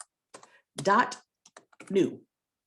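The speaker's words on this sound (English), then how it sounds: "in the address bar, type in sheet.new" Computer keyboard typing into a web browser's address bar, heard as a few short bursts of key clicks mixed with voiced sounds in a quiet room.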